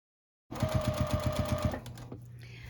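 A sewing machine stitches binding around the edge of a quilt, starting abruptly with a quick, rhythmic run of stitches, then easing to a lower steady hum.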